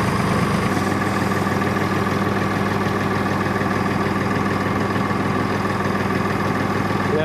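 A tractor engine runs steadily while pulling an empty trailer over slippery ice, a close, continuous low rumble and drone that holds even throughout.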